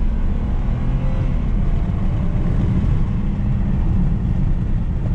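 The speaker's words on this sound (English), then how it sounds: "I love the inline six sound." A 2008 BMW 328xi E90 sedan with an inline-six engine driving, a steady loud low-pitched engine and road rumble that holds evenly throughout, with no talking.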